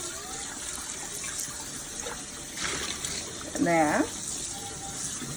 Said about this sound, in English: drain it with really cold water